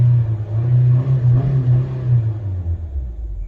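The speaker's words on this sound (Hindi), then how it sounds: "उसकी वजह से आपकी गाड़ी 4000 से ऊपर रेव नहीं कर सकती" A 10th-generation Honda Civic engine, fitted with a particulate filter, revs up and holds against its soft limiter near 4000 rpm, a loud steady low drone that stays level before dropping off at the end.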